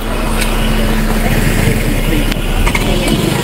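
Car engine idling nearby, a steady low rumble with faint background noise and no clear talk.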